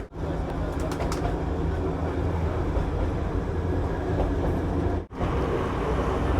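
The Darjeeling toy train rumbles steadily along between Darjeeling and Ghum, passing close by shops, with a continuous clattering drone heard from on board, briefly dipping near the end.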